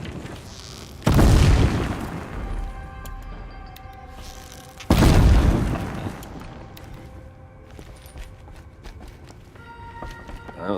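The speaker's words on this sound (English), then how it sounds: "Use explosion." Two heavy booms from an explosion in the Horizon Zero Dawn video game, each a loud sudden blast that tails off into rumbling debris and scattered clatter, about four seconds apart.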